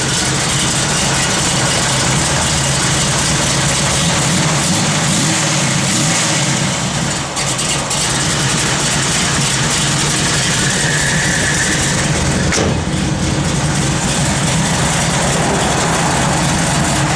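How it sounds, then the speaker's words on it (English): A 1968 Chevrolet Camaro SS V8 with a Lunati camshaft idles loudly and close up, with a steady, rumbling engine note that holds for the whole stretch and no talking. "You'll hear it when Jay fires it up here."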